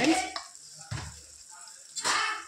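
Chili powder being stirred into a frying tomato curry, with short bursts of sizzling and spoon scrapes in the pan separated by quieter pauses.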